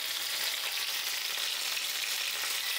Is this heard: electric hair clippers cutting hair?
no